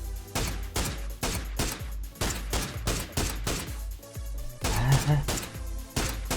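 Rapid bursts of gunfire in the battle-royale video game PUBG (Battlegrounds), loud repeated shots in quick volleys running through the whole clip, without speech.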